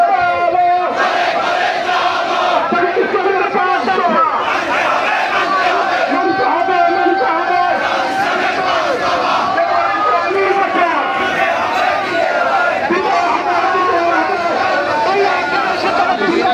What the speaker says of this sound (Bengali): তারা বিভিন্ন স্লোগান দিচ্ছে